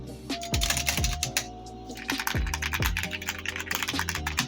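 Keystrokes on a Royal Kludge M87 mechanical keyboard, a steady stream of close, crisp clicks and clacks at a brisk typing pace over a low hum of background music.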